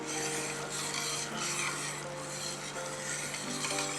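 A spoon scrapes and rubs continuously through a thick green mango candy mixture in a pan, a close, steady rasping stir with a constant low hum underneath.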